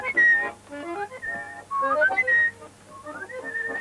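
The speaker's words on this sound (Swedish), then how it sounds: "Man ska vissla när man vaknar." Bright melodic whistling from a 1943 Swedish film, a cheerful wake-up tune carried alone in quick, sliding phrases with short breaths between them.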